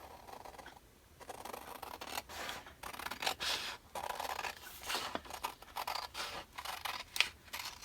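Scissors trim paper for a junk journal booklet, a close series of quiet, irregular snips and scratchy rubbing strokes spread over several seconds, heard alone without talk.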